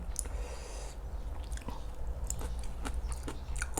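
Close, wet chewing and crunching of spicy pounded papaya salad with boiled field snails and apple snails, steady bites with sharper crunches throughout and no talking.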